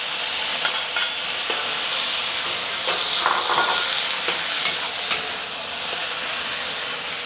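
Carrot, celery and Chinese yam stir-fried in a hot pan, a loud continuous hiss and sizzle with occasional scraping stirs, close up, alone without speech.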